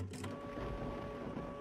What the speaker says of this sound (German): Blöder Drucker.